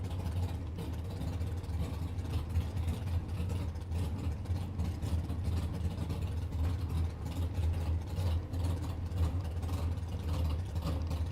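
A race car engine rumbles at El Mirage dry lake racing, droning continuously at a distance, low and constant throughout without any talking.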